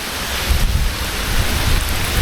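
Heavy monsoon downpour at a resort in Lavasa, a dense, loud, unbroken roar of rain pouring onto surfaces close by, with low rumbling underneath and no speech.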